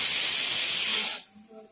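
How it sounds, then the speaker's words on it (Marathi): A pressure cooker lets out a loud, close burst of hissing steam that holds steady for about a second, then cuts off sharply, leaving quiet room noise. "आपल्या कुकरच्या शिट्ट्याही होत आहेत."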